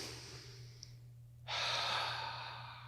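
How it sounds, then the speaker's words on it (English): A single slow, deep breath, first a soft, faint inhale through the nose, then a louder, longer exhale through the mouth, close to the microphone in a quiet room. "in through the nose, out through the mouth, or out through the nose"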